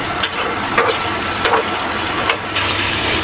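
Spice paste fries in a pan before cabbage is added, giving a steady close sizzle with a few brief stirring scrapes and no talk.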